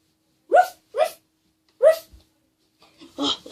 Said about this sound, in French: Je crois avoir vu un chien se promener.